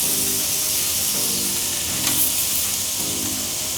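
Marinated top sirloin steaks sizzle loudly and steadily on a grill, a dense close hiss of frying fat with faint scraping as the meat is moved, no speech.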